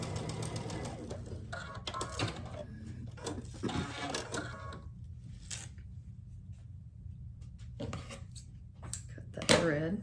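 A sewing machine stitches quilt block pieces in short bursts of quick mechanical chatter separated by pauses, close and moderately loud, with someone talking between runs.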